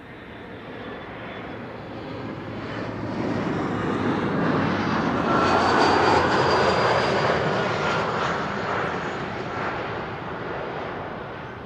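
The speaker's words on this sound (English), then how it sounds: "Looking behind me, there's an Embraer approaching, so that will have to land first." An Embraer jet approaching to land at Amsterdam Schiphol Airport, its engine roar swelling to a loud peak midway and then slowly fading as it passes.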